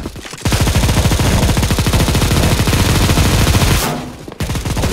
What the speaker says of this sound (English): Help me shoot the box.